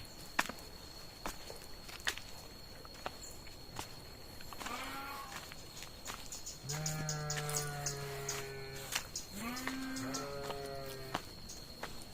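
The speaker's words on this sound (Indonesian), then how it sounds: "Tah kambing." Goats bleat in a village countryside setting, several drawn-out, wavering calls close by, some overlapping, with a few soft footsteps and faint background birdsong between them.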